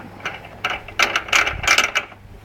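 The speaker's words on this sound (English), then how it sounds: "I'll just whack this little bit on so I can crank it over." A Briggs & Stratton 2.5HP lawnmower engine shaft is cranked over by hand with a fitted piece, giving a run of close, uneven mechanical clicks and ratcheting bursts that cluster in quick succession without any talk.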